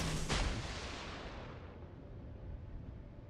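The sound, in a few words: torpedoes launched from a warship in the video game World of Warships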